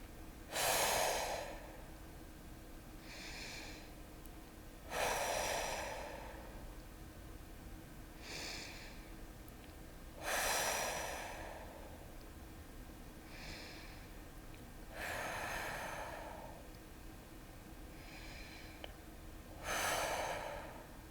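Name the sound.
slow deep breathing in and out, breathing exercise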